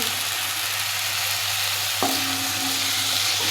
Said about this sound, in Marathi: आत्ता मी टोमॅटो अगदी पाच मिनिट मिडियम गॅसवरती परतून घेणार आहे